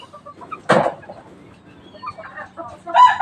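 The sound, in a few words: Rhode Island Red chickens clucking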